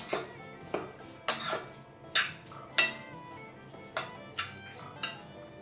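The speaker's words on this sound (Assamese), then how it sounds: "অলপ দিছোঁ হালধি পাউডাৰ দি গোটেইখিনি ভালদৰে লৰাই দিছোঁ।" Spoon scraping and clinking against a cooking pot while stirring vegetables with green chilli, salt and turmeric powder, a series of sharp metallic knocks and scrapes about every half second, close and alone.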